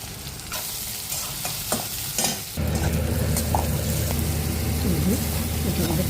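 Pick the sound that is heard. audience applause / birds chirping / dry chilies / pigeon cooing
dry chilies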